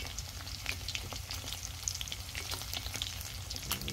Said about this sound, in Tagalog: Ang ating pinirito. Ito tusino.